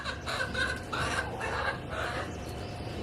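A chicken clucks in a run of short, raspy calls close by, loud and repeated with brief pauses between bursts.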